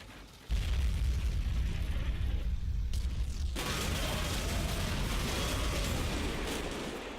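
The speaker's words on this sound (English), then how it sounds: "a second unseen anti-aircraft gun makes its presence felt" Anti-aircraft gun fire in the wargame Combat Mission Final Blitzkrieg, a sudden heavy boom that opens into a dense, continuous roar of rapid firing and rumbling explosions, sustained for several seconds before easing slightly.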